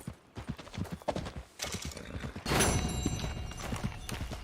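Horse hooves clip-clop in the Western game Red Dead Redemption 2, an uneven run of close steps followed by a whinny and a burst of louder movement, with faint game sounds behind.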